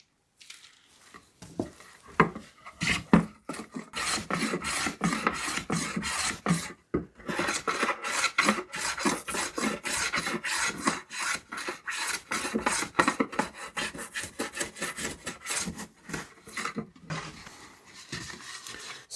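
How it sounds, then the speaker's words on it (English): A hand plane shaves along the wooden outer edges and ends of a stage-light reading lamp, with steady, continuous rasping strokes up close that carry on with brief pauses throughout. "we need to run a plane across the outside and the ends to get it cleaned up and all the little sharp edges off"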